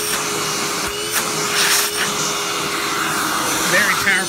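A Hoover Tempo Widepath upright vacuum runs in tool mode with a steady, loud suction whine through the extension wand, with brief surges and shifts in airflow as the nozzle is moved or blocked.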